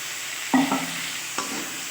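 Prawns, potatoes and okra frying in a pan, a steady close sizzle with two distinct stirring scrapes of a spatula, the first louder and longer than the second.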